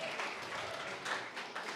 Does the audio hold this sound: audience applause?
yes